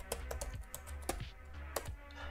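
Keys clack on a computer keyboard as a terminal command is typed to run an install script, a quick, irregular run of close, crisp taps with no talking.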